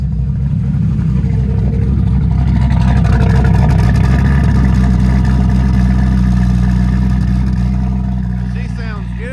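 The engine of a 2006 Chevrolet Corvette C6 Z06, a 30,000-mile car with a TR6060 transmission, runs loud and close in a deep, steady rumble that fades slightly at the end, with someone talking over it.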